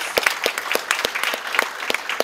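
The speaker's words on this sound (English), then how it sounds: "Please give her a big round of applause." Audience at the Mrs Africa 2022 awards clapping for reigning Mrs. Africa Janine Pretorius, a brief burst of distinct, fairly close handclaps in an uneven rhythm, moderately loud.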